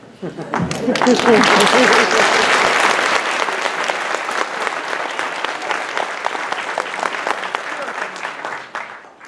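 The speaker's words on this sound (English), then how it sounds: "actually you can applaud" Applause and cheering from a graduation ceremony audience at a chiropractic college, with a few voices at the start, then loud, dense clapping rising quickly and holding steady before tapering off at the end.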